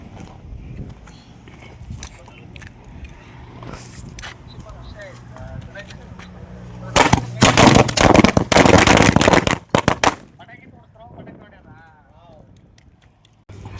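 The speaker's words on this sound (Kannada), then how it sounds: "ಸೊ ಫೈನಲ್ ಆಗಿ ಪಟಾಕಿ ಹಚ್ಚಿದ್ದಾಯಿತು" A quiet stretch with people talking gives way to a loud, rapid burst of firecracker explosions crackling for about three seconds, then chatter resumes.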